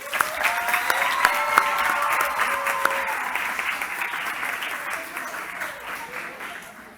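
A council chamber audience breaks into sustained applause for a councilwoman, dense clapping that swells early and slowly tapers off over several seconds, with a few voices faintly mixed in.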